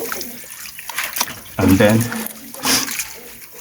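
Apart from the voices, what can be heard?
water poured over oil beans (ugba) in a pot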